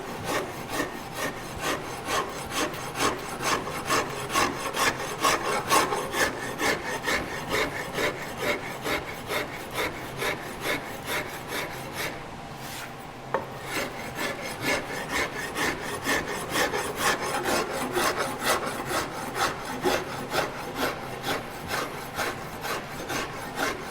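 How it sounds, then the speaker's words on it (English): A wood rasp files steadily along the neck of a handmade bass guitar, a continuous rhythmic scraping of close strokes that pauses briefly midway before resuming. "I'm going to rasp right up to this center line"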